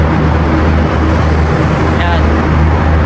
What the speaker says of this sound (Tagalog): May mga sasakyan dumadaan sa likod mo.